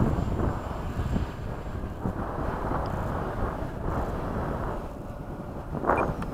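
A Freewing 80mm MiG-21 RC jet making a fast pass after sunset, a steady broad rushing roar heard from a distance with wind buffeting the microphone, swelling slightly near the end.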